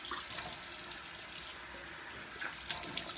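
Water runs steadily from a tap while a face is rinsed, a close, constant hiss with a few brief splashes, and no voices.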